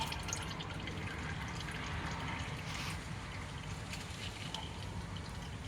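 Engine oil drains from a Toyota Corolla S into a catch can as a faint, continuous trickling pour, steady and quiet throughout with no talking.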